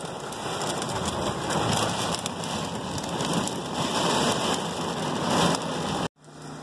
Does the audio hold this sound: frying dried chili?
no